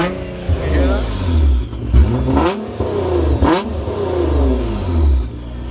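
A Nissan GTR NISMO tuned to about 900 horsepower revs its engine in several rising and falling bursts, loud and close, heard from inside the car with voices talking over it.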